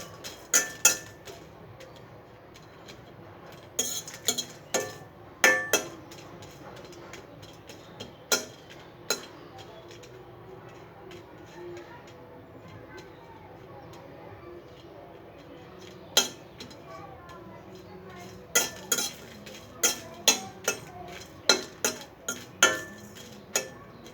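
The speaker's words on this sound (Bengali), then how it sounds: "অল্প আঁচে ভাজতে হবে যেন পুড়ে না যায়। নেড়ে চেড়ে নিচ্ছি।" Metal utensil stirring food in a pan frying on low heat, with scattered clinks and scrapes against the pan in irregular bursts over a quiet background hiss.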